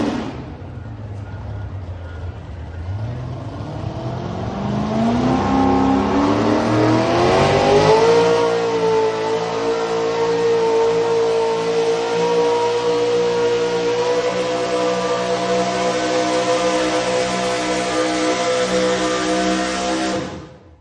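Engine of the pulling truck Hell's Coming at a truck pull, a loud sustained rev that climbs in pitch then holds a steady heavy roar for about twenty seconds, close and without talk.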